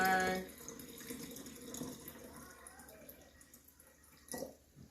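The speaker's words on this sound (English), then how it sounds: "I'm pouring the water in the jar." Water pours into a jar in a short burst at the start, then thins into faint trickling and dripping that is quiet and close.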